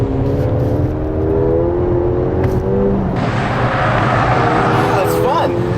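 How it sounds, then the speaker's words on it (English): A 200 hp Ford Fiesta ST's engine drones loudly on a race track, a steady, close in-car tone that shifts pitch as the car changes speed, with a gear change partway through and a rising rev near the end. "I like driving this car."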